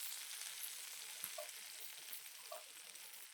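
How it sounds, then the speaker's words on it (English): Chickpea panisse pan-searing in oil, giving a continuous soft crackling sizzle at a steady, fairly quiet level, with a couple of faint clicks or small pops and no talking. "Alternatively, you could deep fry these, but these are really nice, just pan-seared."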